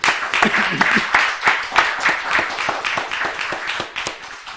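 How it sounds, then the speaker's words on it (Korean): Congregation clapping in praise during a Sunday afternoon service at a Korean Holiness church, a brisk, fairly loud burst of many hands with distinct sharp claps standing out, sustained throughout. "하나님 앞으로 영광의 박수 올려드립니다"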